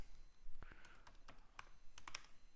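Someone types JavaScript code on a computer keyboard, producing scattered light key clicks with a few sharper taps, close and quiet with no talking.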